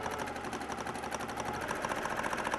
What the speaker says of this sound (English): it's quite hard to talk and machine quilt at the same time